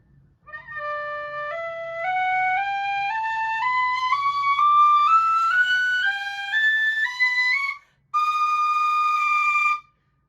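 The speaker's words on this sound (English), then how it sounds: "So here's the scale from low D to high D to double high D." A bright brass tin whistle plays a rising scale of clear sustained notes from low D to high D, step by step, then a brief pause before a final held double high D.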